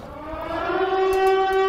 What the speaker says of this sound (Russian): Это звук воздушной тревоги.